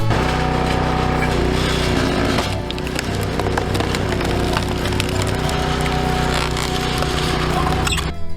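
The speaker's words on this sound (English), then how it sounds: "splitting firewood" Loud, close cracking and splintering of firewood being split, with sharp crunching splits and rough scraping over a steady background hum.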